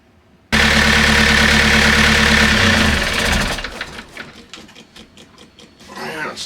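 A loud boat engine runs with a rapid mechanical clatter, then cuts off after a few seconds, leaving quieter knocks and handling noises.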